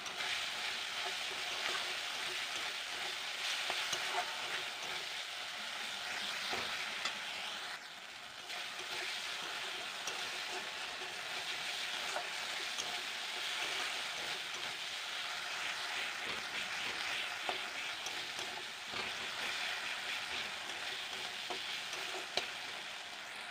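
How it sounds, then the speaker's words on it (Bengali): Ground spices with chili powder fry in a pan for a pointed gourd and rohu fish curry, giving a soft, steady sizzle that holds evenly throughout with faint crackles and no talking. "তো দেখো মশলাটা আমার প্রায় ভাজা হয়ে গেছে।"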